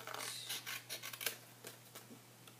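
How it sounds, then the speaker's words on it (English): A craft cutter trims the top edge of a paper scallop-tag birdhouse box, giving a run of short, quiet snips and scraping cuts in an irregular rhythm, close by with no talking. "you can do a little bit of trimming to tidy it up"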